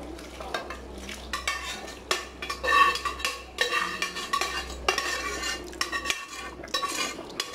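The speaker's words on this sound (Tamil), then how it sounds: "கறி எடுத்து அதை போட்டு பிரட்டறோம்" A spoon scrapes and clinks against a biryani pot as cooked mutton is turned and stirred, with repeated rhythmic scraping at a moderate distance and no talking.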